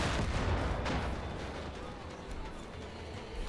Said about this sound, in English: Oh crap, there's a mortar.